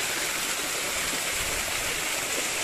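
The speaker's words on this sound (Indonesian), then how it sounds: "itu air terjun dari atas gunung sana" A waterfall pours down from a mountain near a forest river, a steady, full rushing roar of falling water, loud and unbroken with no voices over it.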